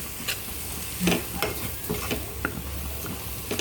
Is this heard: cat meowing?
no